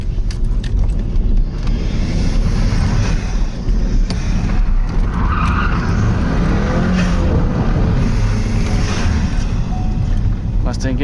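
A 2015 Ford Mustang EcoBoost drift car's engine revs hard while driving, its loud, rough roar rising and falling with wind rush under a voice.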